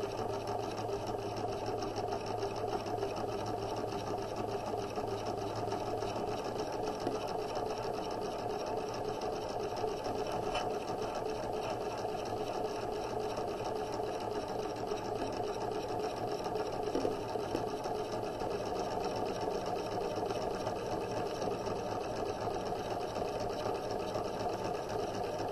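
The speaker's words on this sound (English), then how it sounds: "So I'm back stitching, and then I'm going to use a regular stitch, plain stitch, top stitching all the way down the fabric." A sewing machine runs nonstop, top stitching down pillow fabric with a fast, even mechanical whir and needle clatter, close and steady throughout.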